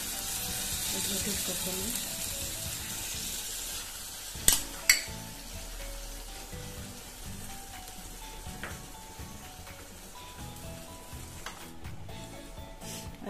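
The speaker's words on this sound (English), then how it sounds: "I will add the tadka here." A hot tadka poured into dal for a no-onion, no-garlic vegetarian thali, giving a soft continuous sizzle with a couple of sharp clinks midway while someone speaks briefly.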